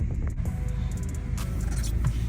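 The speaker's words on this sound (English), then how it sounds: "So driving this car is kind of interesting. One, it's pretty loud" Steady, loud engine rumble from inside a moving car, low and constant, with faint rattles and road noise on top.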